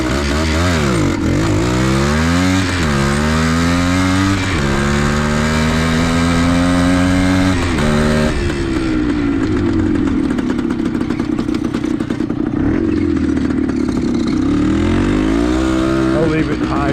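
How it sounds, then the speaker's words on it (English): A Suzuki TC185 dirt bike launches a hole shot in high range, its engine revving up loudly through climbing pitch sweeps, then holding a rough, steady roar up close. "I'll put it in high range and do another hole shot for you."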